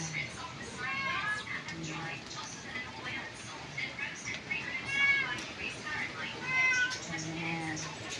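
A stray cat meows repeatedly at close range, several drawn-out calls spaced across the stretch, over faint outdoor background noise.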